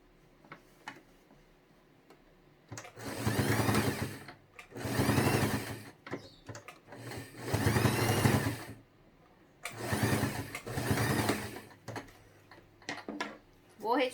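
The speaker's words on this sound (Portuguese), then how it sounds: "vou fazer uma costura aqui na parte de trás" A sewing machine stitches a seam on the back of a fabric toiletry box, running in five or so bursts of rapid mechanical ticking with short pauses and quiet handling noises between them.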